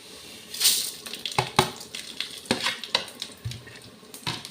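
Masala frying in a pan in a home kitchen, with crackling sizzle, a scrape and clack of the stirring spoon against the pan, and a few sharper splatters, close and without talk.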